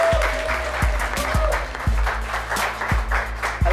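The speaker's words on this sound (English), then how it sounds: "Please, a big applause as she comes on set" Studio audience applauds a guest, Arlene Taylor, walking onto a talk-show set, a steady wash of clapping with recurring low thumps beneath it, lasting the whole stretch.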